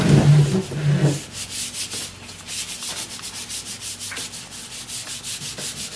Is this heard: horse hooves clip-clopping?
no